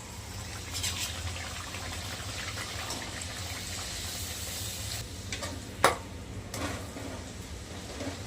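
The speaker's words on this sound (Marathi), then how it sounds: "पुरी तळून घेऊयात" Puri deep frying in hot oil gives a continuous, even sizzling hiss with one brief sharper splash near the end, steady and close with no voices.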